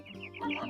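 Chickens cluck at close range during midday farm chores, a short run of quick, throaty clucks and calls that grow louder toward the end.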